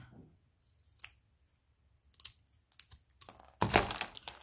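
Scissors snip scrapbooking paper in short, close cuts: a single snip, then a few crisp clusters of cutting, ending in a longer louder run of snipping, with quiet pauses between.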